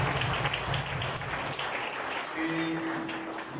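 A crowd at a church gathering breaks into applause, a full, steady patter of many hands clapping, with a brief sustained tone rising beneath it toward the end.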